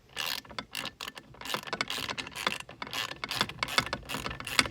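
A ratchet wrench backs out 7/16 bolts on a boat, its pawl clicking in quick close bursts with short pauses between strokes, no voices.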